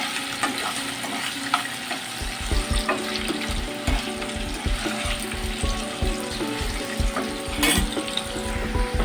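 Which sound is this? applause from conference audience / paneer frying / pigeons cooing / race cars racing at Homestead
paneer frying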